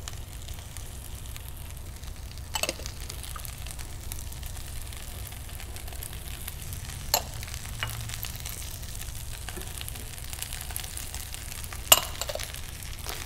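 Vegetables for a mushroom rice pilaf soften in a pan: a soft, even sizzle runs throughout, with a few sharp clinks from the stirring spoon at scattered moments.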